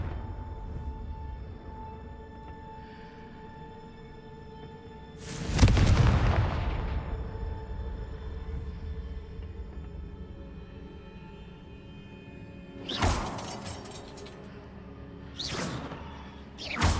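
Confringo blasting spell explosions in the Hogwarts Legacy video game: one big booming blast with a rushing decay, then two sharper, shorter bursts later, all set over a steady low game ambience.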